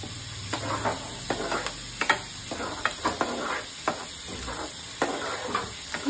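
Paneer frying in a pan while being stirred, a steady sizzle under repeated sharp scraping strokes of the spatula at an even rhythm, close and clear.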